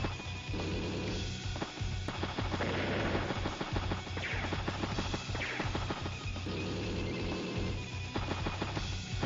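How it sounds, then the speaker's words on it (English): A battlecopter opens fire in Advance Wars: Days of Ruin, repeated punchy gunfire bursts and impacts over loud, continuous game music, with several distinct volleys spread across the clip. "Battlecopter did get a good shot there."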